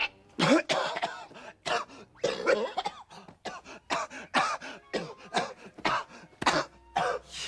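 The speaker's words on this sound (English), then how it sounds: "My man ain't cough like that since back in the day" Repeated harsh coughing fits, loud and close, with rapid bursts and short gasps between them, continuing throughout.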